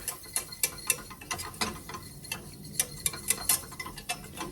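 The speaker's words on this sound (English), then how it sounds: "I'm just gonna stir that in and just whisk it around until it gets thick and bubbly." A whisk stirs flour into cheeseburger soup in a pot, making quick, uneven metallic clicks and scrapes close by as it works around the pot.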